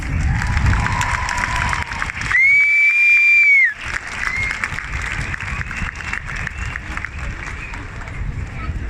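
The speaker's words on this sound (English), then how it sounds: "a big round of applause, please" An outdoor crowd at a pro-life rally in Belfast claps and cheers, with a long shrill whistle cutting through for about a second and a half before the applause and crowd noise carry on.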